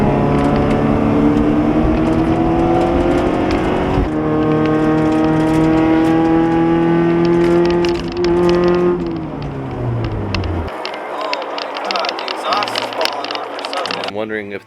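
Loud exhaust drone from a B20-powered Civic Wagon AWD on the move, holding a steady pitch, then the revs dropping away into a rough idle near the end.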